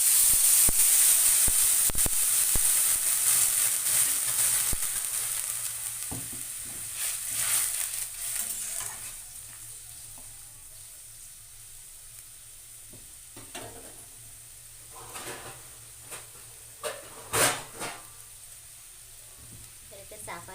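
A little water goes into a pan of lightly fried mango for a chutney, setting off a loud hissing sizzle that gradually dies down into softer bubbling, with a few clattering stirs near the end.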